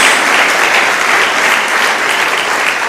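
Dense, loud applause fills a church as the congregation claps for Jesus, a continuous even roar of many hands with no pauses and little talk beneath it.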